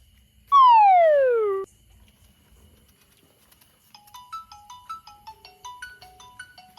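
A phone ringtone sounds for an incoming call late at night, first a loud falling electronic sweep, then a quick sequence of bright plucked tones repeating in a rhythmic melody, clear and close with no talk.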